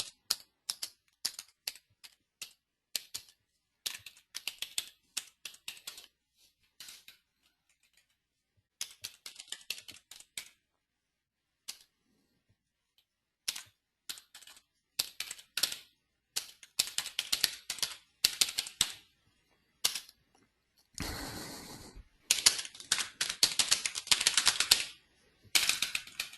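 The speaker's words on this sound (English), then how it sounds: "I know my keyboard sounds like I'm hitting it with my fist." Heavy, loud keyboard typing in irregular bursts with pauses between, growing denser and more rapid toward the end; no talking.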